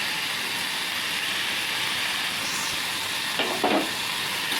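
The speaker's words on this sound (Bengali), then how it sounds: "ভাজা ভাজা করে নিচ্ছি" Chopped onion, tomato and chilli sizzle steadily in a hot pan, a soft, even frying hiss close by with a brief stirring scrape near the end.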